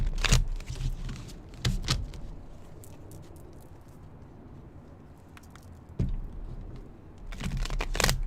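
Tarot cards are shuffled in several quick riffling bursts, crisp and close, separated by quiet pauses, with no talking.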